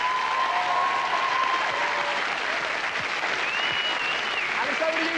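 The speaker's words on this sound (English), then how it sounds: "Let's give them a big round of applause," Studio audience applauding at the 1993 launch of Carlton TV, a dense, steady wash of clapping sustained throughout, loud and close, with faint voices mixed in.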